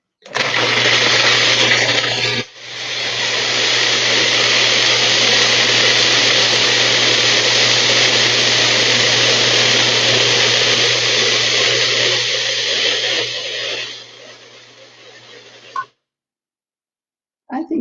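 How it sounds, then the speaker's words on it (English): A food processor whirs steadily as it grinds nuts for vegan parmesan, loud and constant for about fifteen seconds with a brief dip near the start, then cuts off. "helps a lot if you plug in the food processor"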